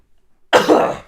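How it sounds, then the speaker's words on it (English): A single harsh, close cough bursts out after a half-second of silence and trails off with a raspy throat sound. "Why am I coughing?"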